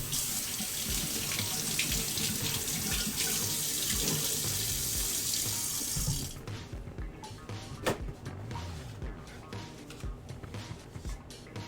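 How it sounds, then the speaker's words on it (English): Homemade chicken stock pours through a strainer in a steady liquid stream for about six seconds, then thins to irregular drips and trickles. "Okay, we still dripping over here."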